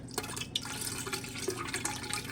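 Water pours and trickles into a small travel-size Berkey gravity water filter, wetting the filters, with soft splashing and dripping over a steady liquid wash at close range.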